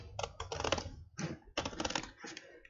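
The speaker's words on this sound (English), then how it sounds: "I'm moving the paper as I'm cutting, not my scissors" Scissors cut paper for a paper spider craft in bursts of crisp snipping and crunching, close and fairly quiet, with brief pauses between runs of cuts.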